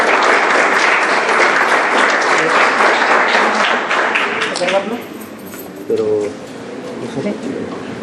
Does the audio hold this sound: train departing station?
no